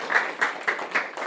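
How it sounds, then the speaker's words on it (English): A few sparse handclaps from a small audience at a hypnosis business event, four soft claps at a steady pace over a quiet background. "Round of applause"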